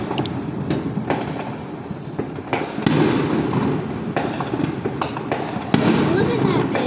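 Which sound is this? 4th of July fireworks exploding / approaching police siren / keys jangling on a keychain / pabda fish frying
4th of July fireworks exploding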